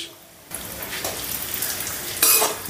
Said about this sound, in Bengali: এবারে পনির ভাজার অতিরিক্ত তেলটা তুলে নিয়েই আমি ভেজে নিচ্ছি কাজু আর কিশমিশ